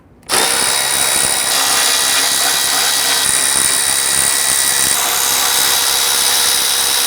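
Power tool loosening and backing out four T30 Torx bolts on the radiator crossmember of a 1999-2004 Jeep Grand Cherokee 4.7L V8, a loud, steady whirring drive that starts abruptly and runs continuously without pause.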